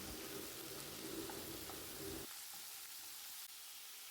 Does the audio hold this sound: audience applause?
no